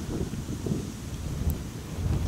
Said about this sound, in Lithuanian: Vėjas kyla jau, temsta.